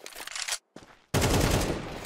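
Gunfire in a video game shootout from a tactical shooter match: a loud burst of rapid shots, a brief gap, a short second burst, then a heavier sustained volley of fire.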